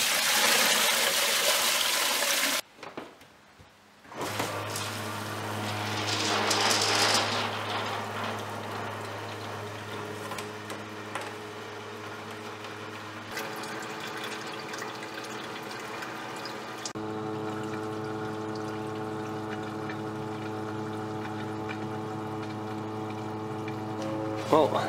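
Water pumped through a car radiator and hoses rigged as an outdoor wood-burning garage heater, a steady low hum and gush that runs on for the whole stretch, shifting in level a few times, with talking now and then.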